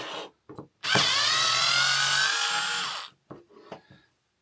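A Black and Decker 6V handheld cordless screwdriver undoes a screw, its small motor whirring steadily for about two seconds, with brief clicks and handling noises before and after.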